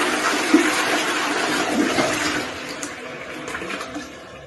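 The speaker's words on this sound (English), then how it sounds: "if you Shazam a flushing toilet" A flushing toilet makes a loud, close whoosh of rushing water that gurgles and slowly thins out as the bowl drains, with no talk.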